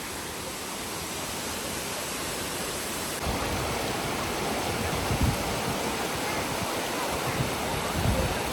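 A loud, steady roar of falling water rushes continuously at the foot of a waterfall in Zakarpattia, Ukraine, growing slightly heavier a few seconds in, with no voices.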